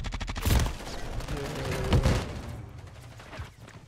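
Rapid bursts of gunfire and booming shots from a shooter video game, loud and dense in the first half, with players talking over the action.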